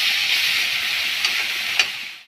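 Pointed gourd and mixed vegetables tipped into a hot frying pan for a fish curry, a loud continuous sizzle with a couple of brief crackling bursts, heard alone and close.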